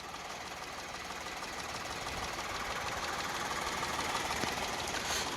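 A 2025 Dzire car engine idles with a steady, even mechanical hum and rapid low ticking, heard up close without talking.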